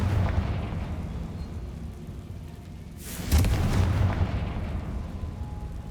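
A Confringo explosion spell in Hogwarts Legacy erupts as one sudden, deep blast midway, followed by a rolling rumble that settles back into a steady low background roar.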